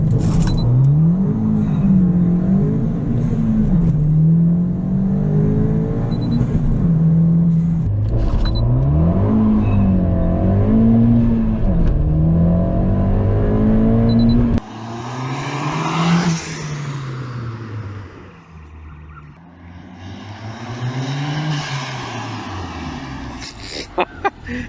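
A Ford Fiesta ST with a Mountune MR265 upgrade revs hard through rising gear pulls, each climb cut by a shift, then fades into the distance with faint voices nearby.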